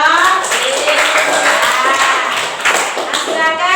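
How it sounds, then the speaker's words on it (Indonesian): A class applauds for group 3, with dense, steady clapping from many hands filling the room for several seconds, loud and close. "Kelompok 3, tepuk tangan dulu dong."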